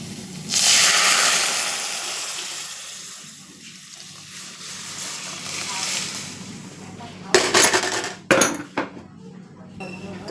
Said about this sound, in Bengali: তো ডালটা এবার আমি দিয়ে দেবো